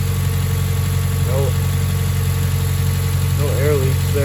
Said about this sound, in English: Just trying to relearn the idle again.